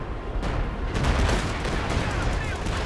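Heavy gunfire from an 88mm anti-tank gun in the World War II strategy game Company of Heroes 2, with dense battle noise and booming shots layered over one another, loud and continuous throughout.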